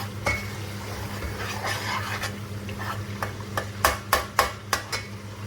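Chicken livers cook in a pan with mashed soft tomatoes under a steady low hum, the mixture stirred with a run of sharp, regular utensil knocks against the pan that grow louder near the end.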